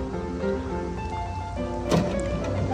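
Power in-floor wheelchair ramp on a 2019 Honda Odyssey VMI NorthStar retracting, a steady motorized hum with faint mechanical tones, ending in a brief louder clunk near the end.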